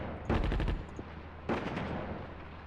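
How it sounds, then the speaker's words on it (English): Airstrike explosions and gunfire in the video game Attack at Dawn: North Africa, two loud rapid bursts of shots or blasts, the second shorter, each trailing into a lingering rumble. "I do an airstrike there."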